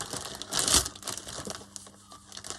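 A plastic bag is crumpled by hand at close range, giving a soft, crackling crinkle that swells briefly and then fades to light rustling.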